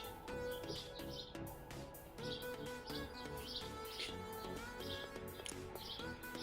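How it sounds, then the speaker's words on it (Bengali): Birds chirp outdoors on a morning street near roadworks and a train line, their short bright tweets repeating throughout over a steady background hum, faint and at a distance. "পাখির আওয়াজ তো আছেই"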